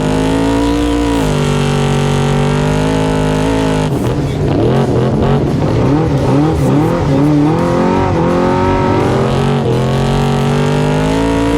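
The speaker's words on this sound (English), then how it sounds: "So we're up on the line and light turns green. I stand on the gas" A race car accelerates hard off the start line when the light turns green, a loud engine drone that rises sharply into a rapid climb through the revs, close and dominant, with possible tire noise.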